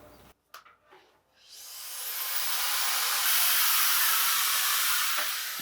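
A hair dryer fitted with a diffuser blows on a beard, a loud steady rushing hiss that swells up after a couple of quiet clicks and runs on alone.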